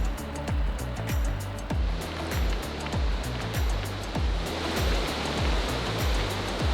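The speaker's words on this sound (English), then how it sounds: "And there's a waterfall." A waterfall in the Lauterbrunnen valley rushes as a steady broadband wash, overlaid with repeated low thumping pulses about every half second, likely footsteps or handling close by, with no voices.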